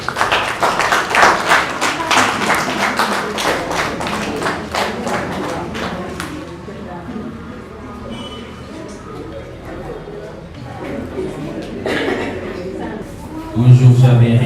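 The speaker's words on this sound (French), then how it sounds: "Vos applaudissements, s'il vous plaît." Audience clapping at a poetry book signing ceremony for poet Tibou Faye, dense and lively at first, then thinning into scattered claps under a low murmur of voices, with a burst of handling noise at the end.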